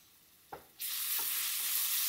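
Turmeric, ginger-garlic paste and curry leaves hit hot oil with golden onions: a couple of soft clunks, then a sudden loud sizzle that holds steady, with a faint stir partway through.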